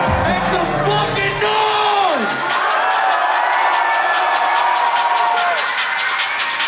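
Loud crowd cheering, whooping and yelling fills a live comedy show in Chicago, sustained and close throughout, with a performer's shouting voice rising over the noise.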